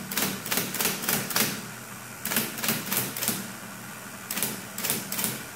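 Keys clack on an IBM Electromatic electric typewriter under repair, in three quick bursts of several sharp strikes each, separated by brief pauses over a low motor hum.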